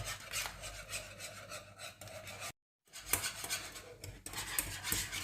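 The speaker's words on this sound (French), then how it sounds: "ça fait à peu près 4-5 minutes que je mélange" Lemon curd of sugar, beaten eggs, lemon juice and zest is whisked in a pan, making a continuous close scraping rasp that breaks off for a brief silent gap.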